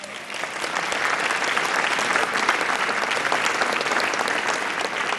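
Steady, dense audience applause fills a summit hall, continuous and fairly loud throughout with no pauses.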